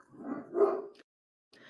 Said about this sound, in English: Sorry if you hear my dog barking.